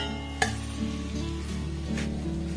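Egg paratha frying in oil in a pan, a soft steady sizzle near the mic with a sharp clack of a utensil early on and faint stirring scrapes, no voices.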